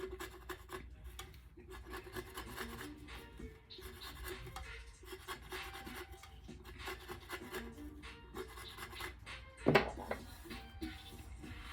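Steady scraping and rubbing of abrasive against the hard edge of a tumbler, continuous with small variations, plus one brief sharper knock near the end.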